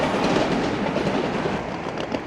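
Steady rumble and rolling rail noise of a ČD Railjet passenger train running at speed on the line from Prague, heard from inside the carriage, continuous and fairly loud with no voices.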